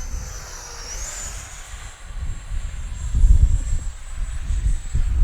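Freewing F-16 70mm RC jet flying past, a high, thin electric ducted-fan whine that sweeps upward and holds steady while a low rumble swells as the jet comes nearer.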